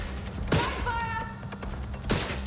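Bursts of gunfire in Watch Dogs Legion, two sharp volleys about a second and a half apart with a tonal whine between, amid game noise.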